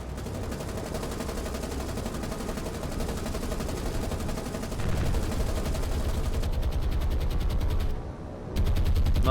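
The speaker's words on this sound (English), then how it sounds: "I can see anti-aircraft fire going that way" Anti-aircraft guns firing in a naval battle from War on the Sea, a dense, steady rattle of rapid shots that continues throughout at constant loudness, with no voices.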